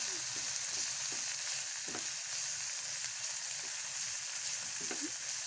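Noodle masala frying in a pan and being stirred, a steady loud sizzle with scattered scraping taps of the spoon, no talking.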